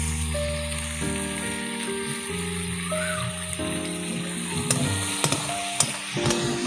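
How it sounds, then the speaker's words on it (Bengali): Chow mein noodles with meat masala fried in a pan and turned over and over, a steady loud sizzle with scraping stirs, no talk. "মানে নেড়ে কষিয়ে নিচ্ছে।"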